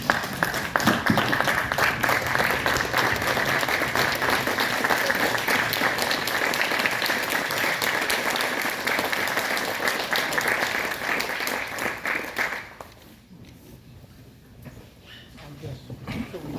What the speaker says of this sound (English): Let us all stand up to our feet and applaud their